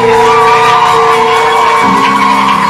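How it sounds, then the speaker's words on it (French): A church congregation shouting and cheering with joy during a worship gathering, a loud, continuous wash of voices and whoops. "En restant acclamer, pousser les cris de joie."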